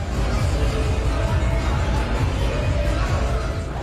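A dense crowd murmurs steadily in Manali, loud and continuous. Indistinct voices blend into one unbroken babble with no single sound standing out.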